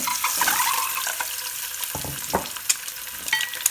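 Eggs coated in chili powder fry in hot oil, with a steady close sizzle and a few sharper pops and crackles.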